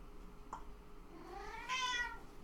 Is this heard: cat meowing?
yes